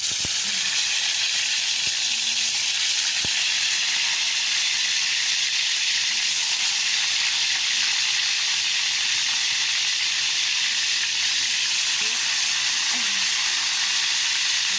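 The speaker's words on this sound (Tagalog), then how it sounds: "Prituhin muna natin hanggang mag golden brown mga kakusin." Chicken pieces frying in hot oil in a home kitchen, a loud continuous bright sizzle and hiss throughout with occasional faint clicks and thumps in the background.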